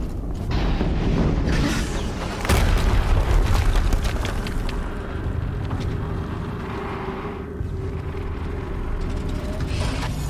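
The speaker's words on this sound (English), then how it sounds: "Another explosion." A loud explosion booms in the video game Horizon Zero Dawn, a heavy burst followed by sustained rumbling and mechanical noise.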